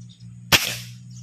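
A single sharp, loud shot from a Tactical M3 Indonesian-made PCP airgun with its hammer spring tension increased, a crisp crack with a brief hiss trailing off over a steady low hum.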